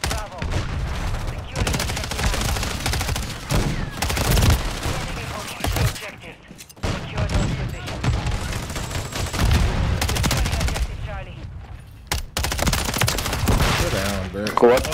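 Rapid automatic gunfire from an MTZ 556 rifle in Call of Duty MW3, with loud dense bursts and sustained volleys broken by short pauses, close and punchy, plus scattered game effects.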